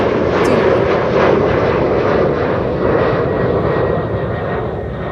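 A jet airliner on approach to land at Amsterdam Schiphol with its landing gear extending, giving a loud, steady broadband engine roar close overhead that holds for the whole span.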